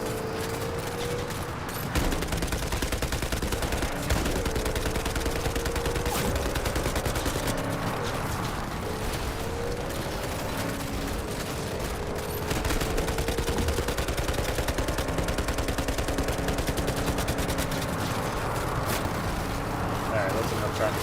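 Gunfire in Cyberpunk 2077 during a fight, with repeated rapid shots and bursts running almost continuously over game music and effects, moderately loud throughout.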